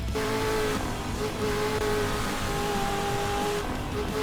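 Engine of a 2014 Camaro driven in the racing game Midnight Racing: Tokyo, a steady loud in-game engine drone with sustained tonal whine and no talking.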